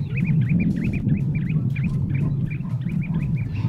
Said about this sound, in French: On a les oiseaux qui viennent chanter autour de nous